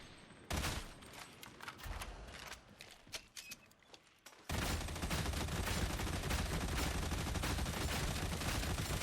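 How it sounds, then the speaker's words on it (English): Gunfire in the video game Darktide as a full magazine is dumped into a boss: scattered rapid shots at first, then a dense, loud, unbroken stream of automatic fire for the last several seconds. "This would be like your fully juiced up mag dump."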